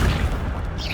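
An Accio summoning spell cast in the Hogwarts Legacy game, a short low boom and rumble fading under a brief high swish, close and loud.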